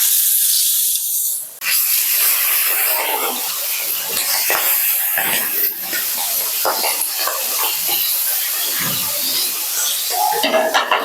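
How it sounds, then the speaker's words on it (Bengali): Pakhal fish frying in hot oil in a wok, giving a steady, loud, close hiss of sizzling that runs the whole time with brief dips and crackles. "তেলটা গরম হয়ে গেছে, এবার আমি এক এক করে মাছগুলো কড়াইতে দিয়ে ভেজে নেব।"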